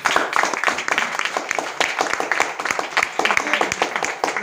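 Audience clapping for new guests at a team gathering, a dense, steady patter of many hands across the whole stretch, lively and close with a few louder claps standing out.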